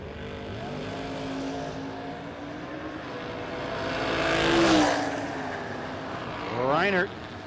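Drag race launch between a 1970 Chevrolet Camaro and a Chevy Nova, engines roaring and swelling as they pass, with a quick high whine near the end, under a commentator's voice.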